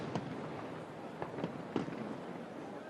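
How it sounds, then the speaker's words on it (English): Traditional Australia Day fireworks go off around Rod Laver Arena, a few distant pops and muffled bangs spread over a steady wash of crowd and wind noise. "Play was held up again as the traditional Australia Day fireworks went on around Rod Laver Arena."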